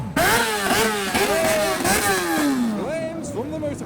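A motorcycle engine revs hard at a large car meet, with repeated loud throttle blips that rise and fall in pitch, one long sweep dropping away. People talk faintly underneath.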